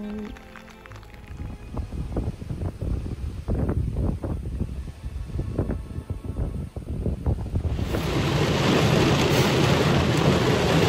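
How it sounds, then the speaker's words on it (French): Steady rain pours down with low rumbles, growing into a heavier, louder downpour with broadband hiss in the last few seconds; no talking. "Je vous laisse juste le son de la pluie."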